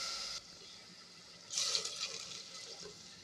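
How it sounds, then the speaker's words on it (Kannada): A short splash of water pouring into a pot for rice pulao, brief and gurgling, after a faint hiss. "ನಾನು ಒಂದೂವರೆ ಗ್ಲಾಸ್ ಅಕ್ಕಿ ಅದಕ್ಕೆ ಮೂರು ಗ್ಲಾಸ್ ನೀರು ಹಾಕಬೇಕು"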